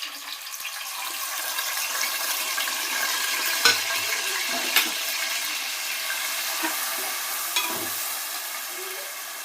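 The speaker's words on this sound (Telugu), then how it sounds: "ఆయిల్ బాగా కాగుతుంది. పచ్చిమిర్చి వేద్దాం." Green chillies frying in well-heated oil, a bright continuous sizzle with a few stirring knocks of a spoon against the pan.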